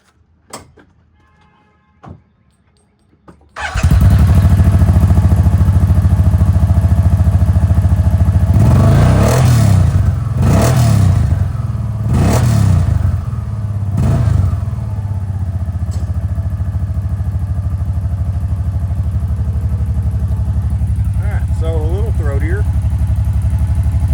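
A 2023 Kawasaki motorcycle fitted with a Whiskey Bent Motorsports performance exhaust tip fires up after a few seconds of quiet, then settles into a loud steady idle broken by four sharp throttle blips in quick succession.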